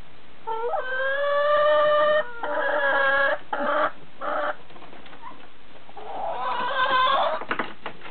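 Hens in a hen house cluck and squawk in loud, close, repeated bursts of drawn-out calls, with brief pauses between the rounds of noise.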